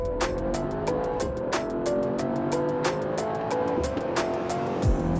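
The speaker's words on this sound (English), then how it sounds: "you press and it amplifies the exhaust. It says powerful exhaust note, and that gives you a bit more bass, a bit more punch" A Mercedes-AMG GT 63 S E Performance hybrid runs with its powerful exhaust setting on, giving a deep, punchy, bass-heavy exhaust note that pulses in rapid, regular beats, steady and moderately loud.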